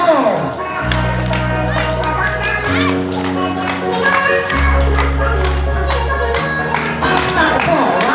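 A group of people at a first birthday party claps along, with sharp repeated claps over loud music with a heavy bass line and voices in the room.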